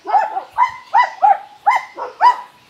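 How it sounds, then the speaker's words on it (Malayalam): A dog barks repeatedly and loudly nearby in a Kerala village, about seven sharp barks in an uneven rhythm with brief gaps between them. "പട്ടി എന്നെ കണ്ടിട്ടാണ് ഭയങ്കരമായിട്ട് കുരക്കുന്നത്"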